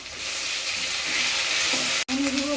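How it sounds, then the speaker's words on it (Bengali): Garam masala, cumin and tomato sizzle and crackle in hot oil, a steady close frying hiss with a brief dropout near the end followed by a faint tonal hum. "ফোড়নে আমি গরম মশলা দিয়ে দেবো, আর একটু জিরে দিয়ে দেবো, টমেটোটা দিয়ে দেবো"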